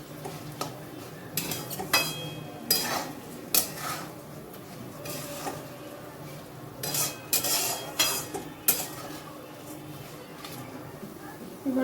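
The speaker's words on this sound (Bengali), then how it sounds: "সবগুলো আবার একসাথে মিশিয়ে নিচ্ছি।" Sugar, salt and turmeric powder being stirred together in a pan for a Bengali fish-head muri ghonto, with spoon scrapes and light clinks against the pan under a voice talking throughout.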